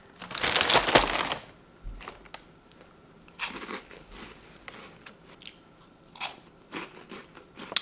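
Baked cauliflower puffs bitten and chewed up close: one loud, dense burst of crunching opens, then shorter, softer crunches come at irregular intervals.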